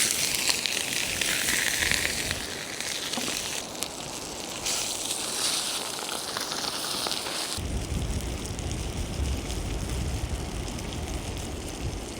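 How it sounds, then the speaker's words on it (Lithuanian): Fish frying in oil outdoors by the sea, a steady crackling sizzle that drops briefly, then turns into a fuller, louder spitting hiss partway through, heard alone with no talk. "nes prie jūros kepa maistas"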